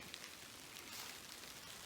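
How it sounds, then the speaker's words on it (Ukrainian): Steady spring rain falling in a quiet forest, a soft even hiss of drops on leaves and ground with no birdsong or voices. "Дощик посилюється і в лісі стало тихо-тихо. Чуєте, як шумить."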